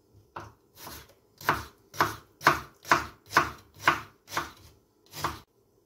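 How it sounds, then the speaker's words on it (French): Nine crisp knife chops as a red onion halved on a board is finely sliced into thin strips, each stroke a distinct thud-and-scrape at a steady, unhurried pace, close and clear with nothing else heard. "votre oignon rouge, vous allez le couper en deux. Et après, nous allons l'émincer."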